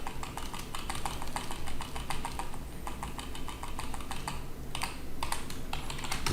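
Rapid clattering keystrokes on a computer keyboard while entering company address details into a web form, steady and close with a few brief pauses, no talking.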